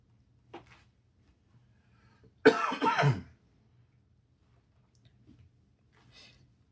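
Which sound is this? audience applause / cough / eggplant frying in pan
cough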